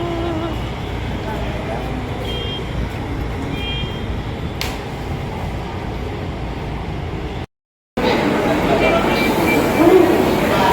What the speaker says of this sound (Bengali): এখন আমাদের ট্রেন চলে এসছে